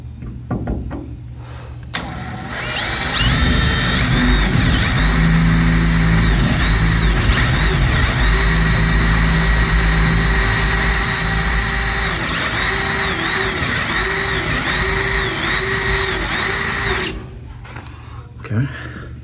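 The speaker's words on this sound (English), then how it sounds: "Take my drill." A power drill bores out an old steel rivet, spinning up loudly after a short pause and holding a steady, high whining grind for about fifteen seconds before stopping abruptly.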